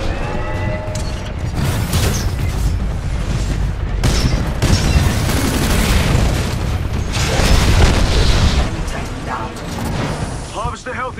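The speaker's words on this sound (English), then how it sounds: "The harvester's getting barraged by mortar titans." Mortar titans barrage the harvester in Titanfall 2 Frontier Defense, a sustained storm of booming impacts and mechanical clatter that swells and fades over about eleven seconds.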